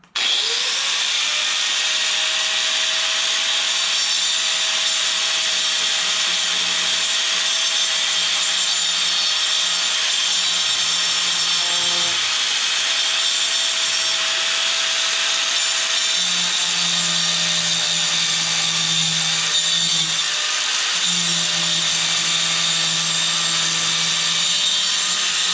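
A power tool fitted with a tungsten-carbide cutting disc, not made for woodworking, runs steadily through wood with a loud, continuous high-pitched whine, its pitch sagging slightly as the blade bites, with no talk.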